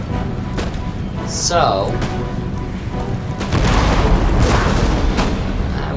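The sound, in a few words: artillery fire in the video game Empire: Total War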